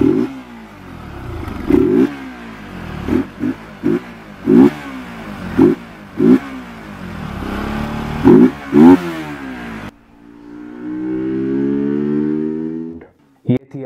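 A Bajaj Pulsar RS200 motorcycle fitted with an RC1060 air filter is revved in repeated sharp blips close by, each burst climbing and then falling away. After these, one longer, lower rev trails off, and a few clicks follow.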